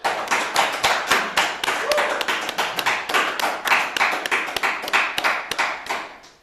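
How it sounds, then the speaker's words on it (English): A small audience at a poetry and spoken-word night claps after a reading, a quick, evenly pulsing run of handclaps that stays strong and close before tapering off at the end. "Let's have another round of applause for Yemma."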